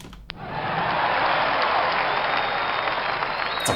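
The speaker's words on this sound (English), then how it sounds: "It's a really long sound effect for applause." Sustained crowd applause sound effect from a baseball video game, swelling in after a brief click and holding as dense, even clapping for several seconds.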